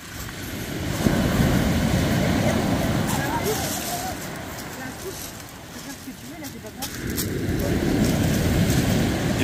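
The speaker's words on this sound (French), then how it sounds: "C'est joli le bruit des vagues, je trouve là." Waves breaking on a huge black sand beach in Corsica, a continuous broad rumbling wash that swells and eases, with faint voices nearby.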